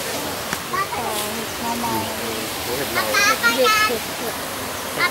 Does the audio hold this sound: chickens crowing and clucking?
no